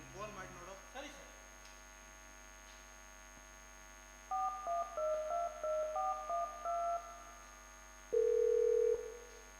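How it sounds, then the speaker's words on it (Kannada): A telephone is dialed, with a series of short keypad tones in a rapid uneven rhythm, followed by one long steady ringing tone, heard clearly over a low electrical hum with no talking. "ಅಲ್ಲಿ ಫೋನ್ ಮಾಡಿ ನೋಡು"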